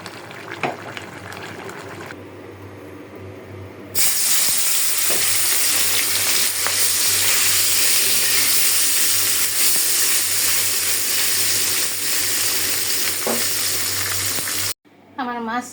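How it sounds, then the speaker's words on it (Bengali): Puti fish (pool barb) frying in a pan makes a loud, continuous sizzle that starts abruptly a few seconds in and holds steady, with some stirring noise and a sudden stop near the end. "এখানে আমি পুঁটি মাছ ভেজে ফেলবো।"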